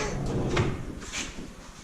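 A furniture drawer slides open or shut with a short scraping rumble and soft wooden knocks, close and fairly loud, with no talking.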